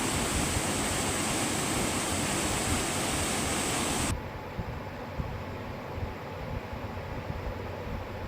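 Cold waterfall water rushes loudly and steadily, a dense roar that suddenly becomes quieter and duller halfway through, as if heard from a different spot.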